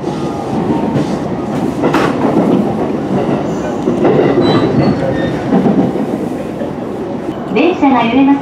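A JR Keiyo Line commuter train rumbles along steadily from inside the car, wheels clattering and briefly squealing as it changes to another track, with an onboard announcement voice heard over the noise.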